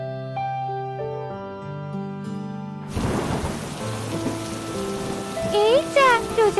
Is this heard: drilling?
no